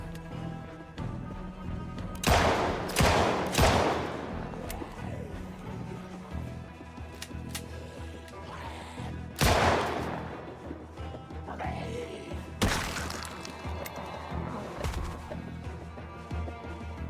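Gunfire from a gun in Project Zomboid, several loud sharp bursts that come in clusters near the start, the middle and toward the end, with quieter game noise between them.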